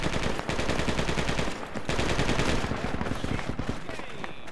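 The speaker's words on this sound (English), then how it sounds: "We're taking fire" Rapid gunfire in the Project Reality v1.39 video game on the Kokan map in an Afghan insurgency round, dense bursts of shots with a brief pause, moderately loud.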